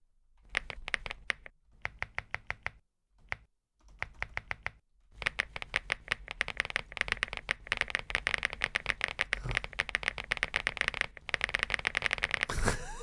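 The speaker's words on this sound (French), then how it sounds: "Il y a plein de sons de clavier comme ça." Rapid keyboard clicks from the Opera GX browser's keyboard sounds, typed in quick bursts with short pauses, crisp and close, with no talking.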